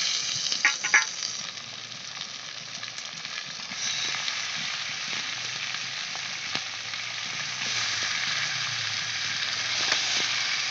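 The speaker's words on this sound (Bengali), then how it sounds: "পেঁয়াজের সঙ্গে চিকেনটা হালকা ভাজা হবে আর কি।" Lemon-marinated chicken fries lightly with onions in a pan, giving a steady, even sizzle that runs throughout at a moderate level with a few faint crackles and no talking.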